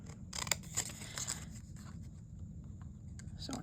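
Paper being cut with scissors while making a pop-out card, with a run of crisp snipping and rustling strokes, fairly close and fairly quiet, and no talk.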